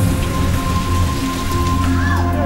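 Heavy rain pours steadily and loudly during flooding in Chennai, Tamil Nadu, a dense continuous downpour close by with a faint tonal hum running underneath.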